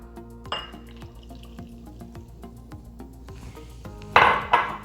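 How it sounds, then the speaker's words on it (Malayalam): Half a cup of boiling water poured onto dates in a kitchen, a soft trickle with light clinks of glass and utensils, ending in a couple of louder splashy knocks. "ഈ ഡേറ്റ്സിലോട്ട് നമുക്ക് 1/2 കപ്പ് തിളച്ച വെള്ളം ചേർക്കാം"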